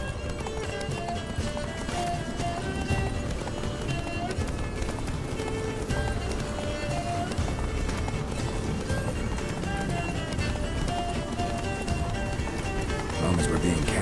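Roach the horse galloping in The Witcher 3, loud continuous clip-clop hoofbeats with a whinny, under game music and sustained character dialogue.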